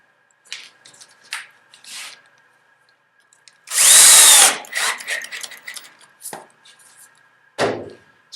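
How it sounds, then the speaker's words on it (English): A power drill drives a 3/4 inch screw into a glue board trap, one loud whirring burst in the middle amid scattered short knocks and handling noises. "Screw it on with a 3/4 inch screw"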